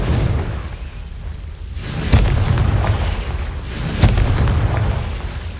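The Confringo fire spell explodes in Hogwarts Legacy on PS5, two loud booming blasts a couple of seconds apart over a dense rumbling game background.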